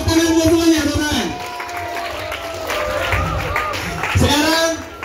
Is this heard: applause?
yes